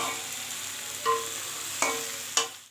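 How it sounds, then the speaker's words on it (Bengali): Spices being stir-fried for a jackfruit curry, a soft steady sizzle close by with three sharp clinks of a spatula against the pan. "এখনও অনেকক্ষণ ধরে কষাতে হবে, তবে গিয়ে এর ভিতরে মশলাগুলো ঢুকে যাবে"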